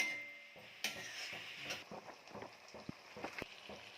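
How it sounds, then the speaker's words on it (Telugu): Tomato and onion frying in oil in a home kitchen pan, a soft steady sizzle with scattered clinks and scrapes of a utensil stirring, close and fairly quiet, no talking. "టమాటా అండ్ ఆనియన్ కట్ చేసి కొంచెం ఆయిల్ వేసి ఫ్రై చేసుకుంటున్నా"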